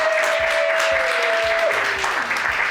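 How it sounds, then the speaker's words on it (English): A crowd applauds loudly and steadily while a tone slides downward in the background with faint rhythmic thumps. "make some noise for the fabulous Isis for being here"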